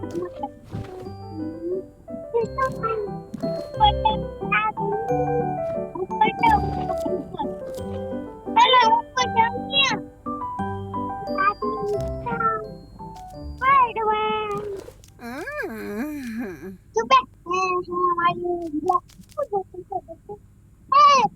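Several drawn-out cat meows rise and fall over ongoing talk, with people speaking close by throughout.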